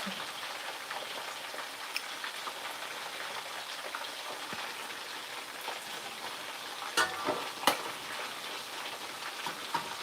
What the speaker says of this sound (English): You're not deep frying, you're just half frying the food.